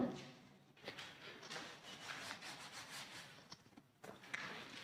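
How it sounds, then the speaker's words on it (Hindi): A duster rubs out writing on a classroom board in repeated scraping strokes, faint and close, with brief pauses between bursts and no talking. "एक मिनट इसको मैं रब करके दोबारा लिख देता हूं आप सभी के सामने"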